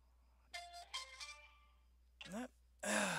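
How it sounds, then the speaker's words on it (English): A phone call rings through a Skype speakerphone: a few clear electronic ringtone bursts, followed by a short voice. "Oh, it's ringing now, so actually ringing."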